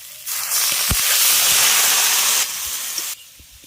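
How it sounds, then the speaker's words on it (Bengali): Water poured into a pan of snails frying with onion stalks bursts into a loud, sustained hiss of steam that dominates for a few seconds, then eases to a quieter sizzle. "এবার সামান্য একটু পরিমাণে জল দেব অল্প পরিমাণে দেব বেশি দেওয়ার দরকার নেই"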